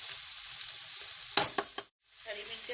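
Vegetables for a Chinese samosa filling fry over high heat, giving a soft steady sizzle with a few stirring clatters before the sound cuts out briefly and resumes.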